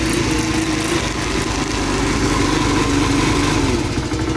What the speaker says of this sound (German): Sie läuft und springt direkt beim ersten Tritt an und hat auch einen richtig guten Sound.